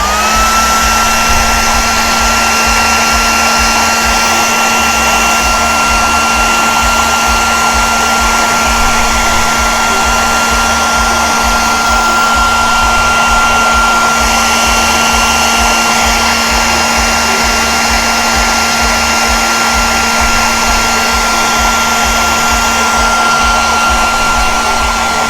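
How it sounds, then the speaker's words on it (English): Blow dryer drying a freshly painted miniature, a loud, steady whirring roar that holds unbroken throughout with no talk. "work it with my blow dryer for a second"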